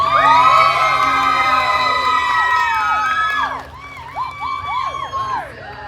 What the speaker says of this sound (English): give us the biggest, loudest round of applause you can